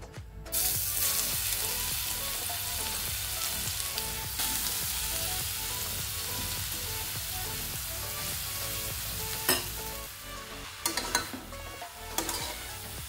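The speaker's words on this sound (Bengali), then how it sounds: "এটাকে এখন আমি তত পর্যন্ত ফ্রাই করব যত পর্যন্ত না গাজরের থেকে রং ছাড়তে শুরু করেছে" Grated carrot frying in melted ghee in a wok for carrot halwa, a long, even, close sizzle with faint stirring ticks and a few sharper scrapes near the end, and no speech.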